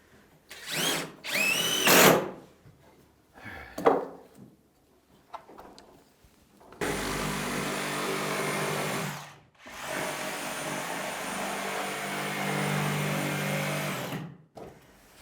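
During a home renovation a power tool cuts through the floor and wall, first in short loud bursts separated by quiet gaps, then in two long, steady, close whining runs with a brief pause between them.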